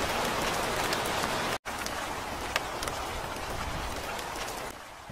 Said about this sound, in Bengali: চারিদিকে কালো অন্ধকারে ছেয়ে পড়ে আর ঝমঝম করে বৃষ্টি শুরু হয়ে যায়।